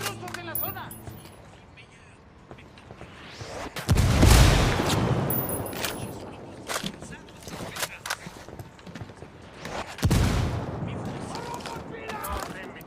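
Gunfire and heavy blasts erupt in a Ghost Recon Wildlands firefight, with two booming impacts amid scattered shots and game noise, close and loud, while voices talk over the action.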